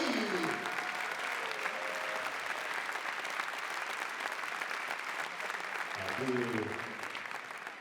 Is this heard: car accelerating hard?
no